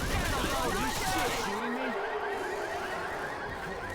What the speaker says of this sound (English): They'll set off the car alarm